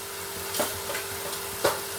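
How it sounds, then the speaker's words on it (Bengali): Kashmiri chilli and coriander powders are stir-fried into chicken curry in a pan, with a low steady sizzle and two or three quick spatula scrapes, close but fairly quiet, no voices. "দেওয়ার পরে এটাকে আমি ভালো করে কষাতে থাকছি"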